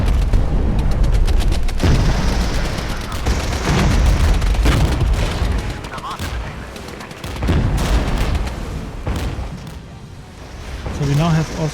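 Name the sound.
explosion destroying rebel mortars in the video game Regiments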